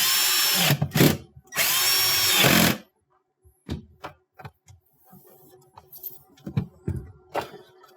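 A power drill drives small white-headed screws back into a refrigerator fresh-food compartment liner, giving two loud whirring bursts followed by scattered clicks and taps of handling.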